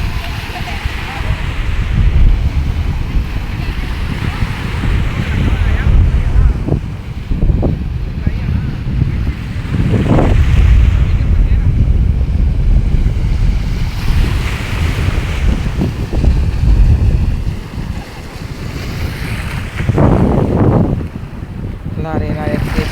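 Sea waves washing onto a sandy beach: continuous loud surf and rushing water with repeated swells, heavy wind buffeting the microphone, and faint voices of people talking in the background.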